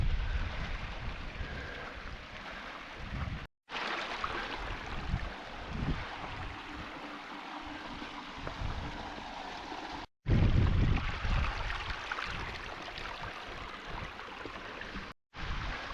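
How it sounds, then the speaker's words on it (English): Steady broadband rush of the Brerachan Falls waterfall in Scotland, a constant flowing roar with brief cut-outs, close and fairly loud with no talking. "And yeah, the waterfall just keeps on going."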